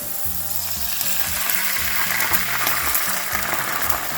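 Marinara sauce hits a hot pan with fragrant garlic and sizzles loudly and continuously up close, a dense frying hiss with faint pops and no voices.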